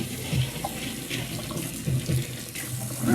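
Cold tap water runs from a faucet as a wig is rinsed under it, a steady close splashing stream with soft shifting gurgles from hands moving hair through the flow.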